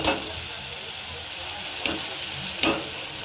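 Boiled, salted and turmeric-coated mashed potatoes dropped into spices frying in oil for Bengali begun aloo chokha: a continuous soft sizzle with two brief sharper clatters of stirring.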